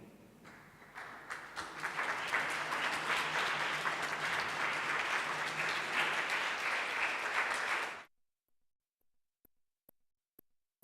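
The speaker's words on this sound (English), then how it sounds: "Can we, with a round of applause and a standing ovation, celebrate that woman?" A live audience gives a sustained round of applause and a standing ovation at a live stream event, dense clapping swelling for about eight seconds and then cutting off to near silence with a few faint taps.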